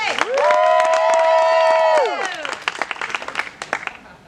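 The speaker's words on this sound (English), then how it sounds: "A round of applause." A crowd at a spring student roast for senior Caroline Dunn lets out a loud rising whoop that holds for about two seconds and then drops away, followed by scattered, uneven claps.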